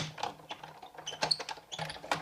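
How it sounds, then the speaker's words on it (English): A Big Shot die cutting machine cranks a heart die through its cutting pads, giving a quiet run of clicky, ratcheting mechanical ticks and small knocks. "I'm going to put my top standard cutting pad on, and I'm going to die cut myself out a heart"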